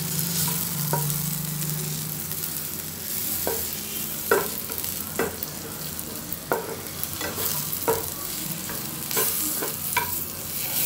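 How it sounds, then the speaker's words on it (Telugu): Green chillies and tamarind fry in a pan with a steady background sizzle, broken by repeated sharp scraping knocks of a spoon stirring at irregular intervals. "చింతపండు కొద్దిగా ఎక్కువ వేస్తున్నాను. ఇలా వేయించేసుకోవాలి."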